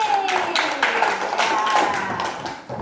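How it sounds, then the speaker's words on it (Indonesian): A school class claps in a brief, somewhat uneven burst, hands striking close by while a sustained tone and some voices carry underneath. "Tepuk tangan dulu untuk Peli"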